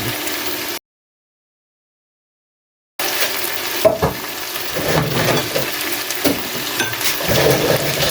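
Tomato paste stirred into sizzling menudo in a frying pan, with a steady hiss of frying and scraping stir strokes, close and loud, broken by a stretch of dead silence before the sizzling resumes, with no talking.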